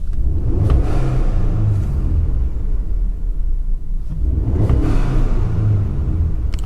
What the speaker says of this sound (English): I'm gonna rev it pretty high because sometimes you really can hear it.